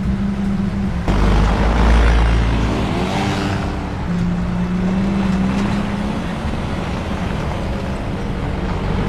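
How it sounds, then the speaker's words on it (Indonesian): A car drives along a road in a tense scene from The Walking Dead, its engine a steady low rumble that swells and recedes without dropping out, with no talk over it. "Daryl mendengar suara mobil dari kejauhan"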